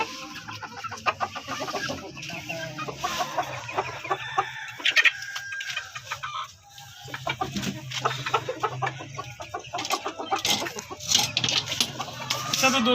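Chickens cluck in a farmyard, with an injured hen and a rooster among them. Clucks and squawks come close and fairly loud in an irregular, busy stream that runs the whole time, with no talk.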